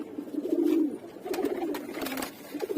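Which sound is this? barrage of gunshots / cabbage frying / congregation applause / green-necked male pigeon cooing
green-necked male pigeon cooing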